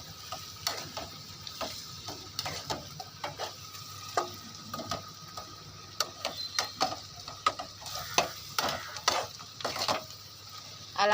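Eggs coated with chili powder and salt are stirred in a pan as a spoon scrapes and taps in irregular close clicks, with a faint sizzle and a low hum underneath.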